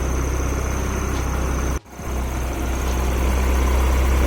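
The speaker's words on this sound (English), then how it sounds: "the car is still cold, and it typically idles a little rich when it's cold" Cold Honda Civic with an H2B engine idling a little rich, a steady close rumble with a brief dip partway through, then settling back to an even idle.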